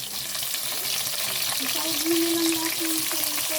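Onions and tomato sauté for pakbet in a home kitchen, giving a steady, close oil sizzle with soft stirring scrapes throughout.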